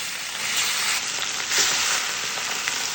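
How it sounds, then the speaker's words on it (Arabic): Liver drops into hot oil and fries with a steady bright sizzle and crackle, close and loud, with no talking. "وفي زيت سخن هننزل بالكبدة بقى"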